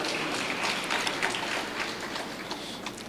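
A church congregation at a mission convention claps hands in praise, a dense, irregular patter of many hands heard at moderate distance, fading slightly toward the end.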